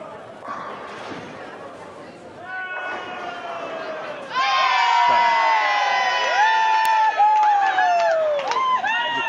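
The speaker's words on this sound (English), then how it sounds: "And another massive cheer for Inamar Bjornsson." A crowd erupts in massive cheering and whooping at the Irish Open dance competition final, swelling louder midway with high shouts and whistles, close and sustained.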